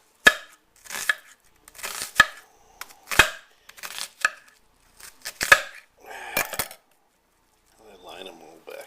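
A knife slicing a halved onion on a cutting board, about eight sharp separate thunks in an uneven rhythm, close and clear, followed by a faint scrape.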